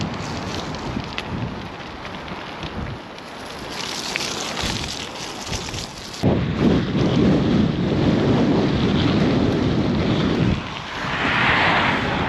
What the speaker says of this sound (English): Still really windy though.